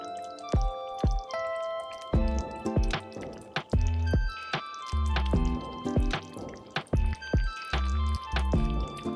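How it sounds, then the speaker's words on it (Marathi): Paneer being gently folded into a thick butter masala gravy, producing a run of soft wet squelches and bubbly drips with irregular plops spread over several seconds, close and fairly quiet. "आणि त्यात पनीर हलक्या हाताने मिसळून घ्यायचं."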